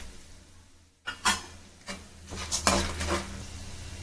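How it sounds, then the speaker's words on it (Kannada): Peanuts tossed into a pan of spluttering mustard seeds while making paper avalakki snacks: clattering, scraping bursts of nuts and spatula against metal after a quiet start, with a faint sizzle underneath. "ಸಾಸಿವೆ ಕಾಳು ಪಟ್ಪಟ ಅಂತ ಸಿದ್ದಿದ್ದಾದ್ಮೇಲೆ ಕಡಲೆಕಾಯಿ ಬೀಜನ ಹಾಕ್ತಾ ಇದ್ದೀನಿ"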